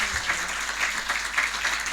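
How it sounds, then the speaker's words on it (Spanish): A room full of people applauds a speaker at a law conference, with many hands clapping in a dense, even patter that stays fairly loud through the brief moment. "muy fuerte el aplauso para el doctor."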